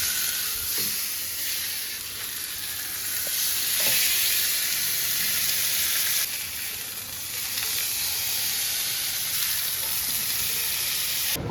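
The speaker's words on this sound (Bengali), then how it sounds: "ফ্রাই করা হচ্ছে ফ্রাইং প্যানে" Continuous loud sizzling and hissing of marinated chicken legs frying in a frying pan, close up, with slight swells in intensity and no talking.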